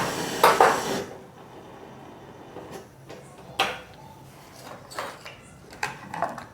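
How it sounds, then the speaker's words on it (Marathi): A metal kadai wok being set on a kitchen stove to heat while cooking paneer tikka: a few sharp clanks and knocks, fairly close, spread across a quiet room with no talk. "आधी मी कढई तापाय ठेवत आहे."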